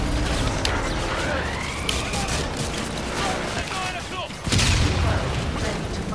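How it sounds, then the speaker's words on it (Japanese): A fuel tower explodes in the Call of Duty: Infinite Warfare campaign with booming blasts and gunfire over dense battle noise, and a heavy burst near the end. "燃料タワー爆発するぞって書いて るぞ"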